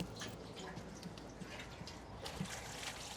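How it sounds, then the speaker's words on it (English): Fuel pouring out of a 2009 Yamaha R6 fuel tank, a faint continuous trickle with scattered drips and splashes, heard close by and quiet with no talk. "just be able to pour it all out"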